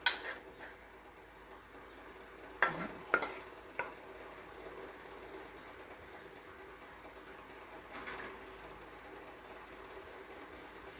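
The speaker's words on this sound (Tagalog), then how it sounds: "ayan na po ang ating stir fry na kangkong or water spinach" Kangkong (water spinach) is stir-fried with garlic and oyster sauce, faint sizzling under scattered metallic clanks of a utensil against the pan, loudest near the start and fading to a quiet background.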